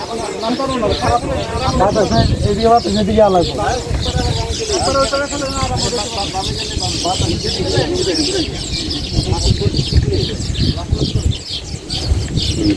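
Weaver birds chirp busily near their nest in a constant high twitter, carrying on beneath someone talking steadily close by.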